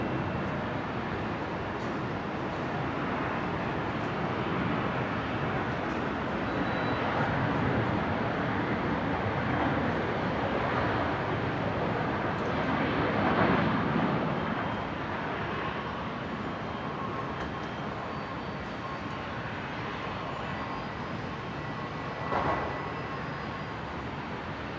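An aircraft takes off from runway 19 right at Brisbane International Airport, a broad, steady engine roar heard from a distance that swells slightly midway and then holds.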